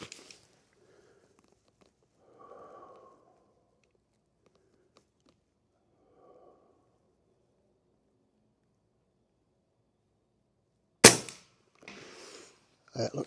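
A single sharp report from an Avenge X air rifle fitted with heat shrink tubing on the barrel, fired at about 880 velocity during a group, loud and abrupt near the end after a quiet stretch with brief distant murmurs.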